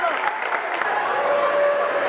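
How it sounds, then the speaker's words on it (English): A high school basketball gym crowd cheering and applauding, a steady wash of clapping and shouts at moderate distance, with a commentator talking over it. "the crowd goes crazy as that gave them their fourth point of the quarter"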